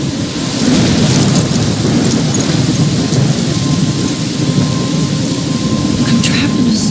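Thunderstorm in the game Life is Strange: steady, loud heavy rainfall with continuous rumbling thunder throughout, a broad roaring wash of storm noise with no voices.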